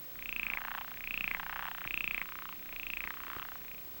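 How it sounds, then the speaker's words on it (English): A frog from a water hole croaks in a series of four or five rhythmic, rasping calls, fairly quiet and alone with no talk. "That's a frog from the water hole."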